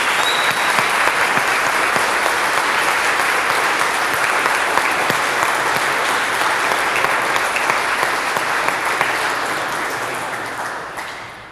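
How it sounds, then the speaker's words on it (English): Sustained audience applause at an Indianapolis National Night Out Crime Fighter of the Year award event, a steady dense wash of many hands clapping for the award recipients, loud and continuous before fading slightly at the end. "please give a round of applause to all of our Crime Fighter of the Year award recipients"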